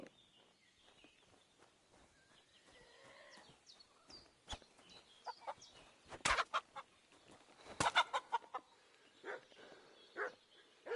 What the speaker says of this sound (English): Shut up, you stupid dog.